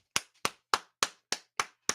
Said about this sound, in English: Fuck, Boston, clap it up.